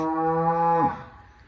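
A single deep moo from a pregnant Swedish-breed cow, loud and close, lasting under a second before cutting off into quiet background.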